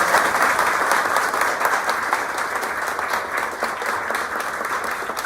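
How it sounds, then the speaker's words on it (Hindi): Loud, sustained applause from an audience at a student felicitation for a JEE Advanced achiever, with dense clapping that stays steady and full from start to finish and no talk over it. "जोरदार तालियों से स्वागत"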